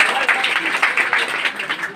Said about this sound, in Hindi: इनके भी एक जोरदार तालियां।